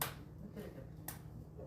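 A single sharp hand clap, crisp and close, followed by a second fainter snap-like hit about half a second later in a quiet room.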